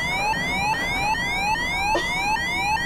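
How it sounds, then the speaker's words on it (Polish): An alarm siren blares in the Tube Sim train game after the driver releases the dead man's switch, a loud, repeating rising electronic wail that sweeps upward again and again with no pauses and no voices. "kiedy puścimy czuwak, kiedy po prostu wtedy mamy kolejną syrenę alarmową, no i cóż, i pociąg nam się zatrzymuje."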